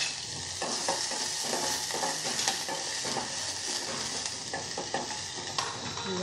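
Cumin, fennel, ajwain and green chili frying in a hot pan, a dense close crackling sizzle with stirring scrapes throughout.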